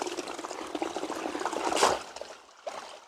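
Running water trickles and splashes in an uneven, close pattern, swelling briefly before fading to near quiet at the end.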